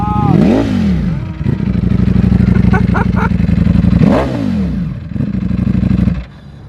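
Up close, a Ducati V4 Speciale sportbike's engine is revved hard in sharp rising and falling bursts, separated by a steady idle, before it cuts off near the end.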